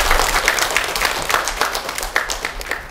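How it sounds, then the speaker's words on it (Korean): An audience at a Korean lecture claps for themselves in a brief burst of dense, lively applause that gradually thins out. "스스로한테 박수 한번 쳐보시겠어요?"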